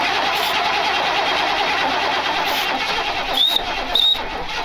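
A car engine cranks steadily after a dose of starter fluid, a continuous churning whir that never catches, with two short high chirps near the end.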